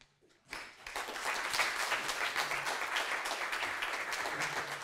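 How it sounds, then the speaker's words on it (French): Audience applause at a tech conference talk on Angular, a dense burst of clapping that starts after a brief quiet moment and stays steady and full for several seconds without voices. "Vous pouvez l'applaudir."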